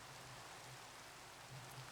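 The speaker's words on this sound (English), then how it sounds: "this looks very cool with the rain" Rain falls steadily in a video game world as a soft, even hiss with no break and no speech.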